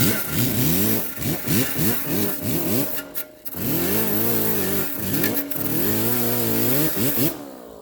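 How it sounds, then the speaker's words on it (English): A wire wheel grinds old silicone sealant off the transmission pan of a 2006 Subaru Outback 2.5 SOHC. The motor whines steadily and up close, its pitch rising and falling as the wheel loads and frees, with a brief dip midway. "get a wire wheel like this and just grind it off"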